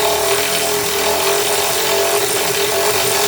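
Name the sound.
tightening nuts on 1980 Mercedes 300SD breather hose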